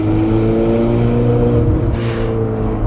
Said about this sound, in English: That gives it those kind of backfiring sounds and just makes it so loud.